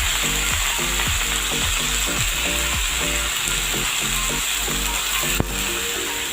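Chuka saag greens fry in a hot pan with spices, a continuous loud sizzle broken by rhythmic scraping strokes of a spatula stirring every half second or so, and one sharp clack near the end.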